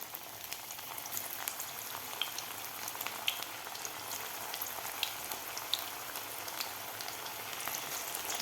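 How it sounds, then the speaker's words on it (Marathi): Matar vadas (pea patties) deep-frying in oil in a kadhai give a steady, dense crackling sizzle with scattered sharper pops, close and continuous throughout. "आता हे सुद्धा आपल्याला गोल्डन होईपर्यंत, असे कुरकुरीत होईपर्यंत तळून घ्यायचे आहेत."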